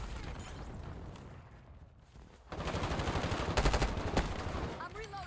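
Gunfire in the Warzone video game crackles in bursts, quieter at first then louder rapid automatic volleys in the second half, with voices talking over the shooting.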